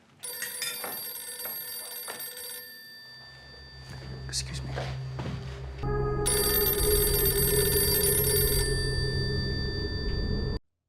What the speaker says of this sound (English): the house phone just constantly ringing and ringing